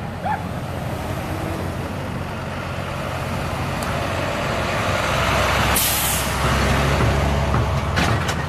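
A truck pulls off to the side of the road with a steady low engine rumble under broadband roadside noise, swelling toward the end with a brief airy hiss like air brakes releasing.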